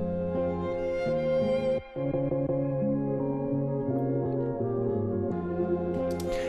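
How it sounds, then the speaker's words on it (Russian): A melodic music sample with its low end cut and a delay added plays alone, layered tonal notes that shift in steps, with a brief dropout near the start and echoing tails. "Я взял первую часть этого сэмпла, срезал с нее, наоборот, весь низ"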